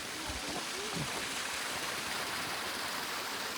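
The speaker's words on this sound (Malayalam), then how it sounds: "ഇവിടെ ഒരു ചെറിയൊരു എന്താ പറയുക വാട്ടർഫോൾ പോലെ സംഭവമുണ്ട്" Steady rushing water from a small snowmelt waterfall stream, constant and close, with a brief low voice at the start.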